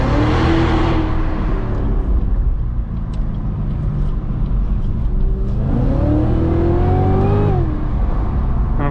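A Cadillac CTS-V3 fitted with a Corvette Z06 engine accelerating hard, a loud close engine roar rising in pitch, dropping at a gear change and climbing again.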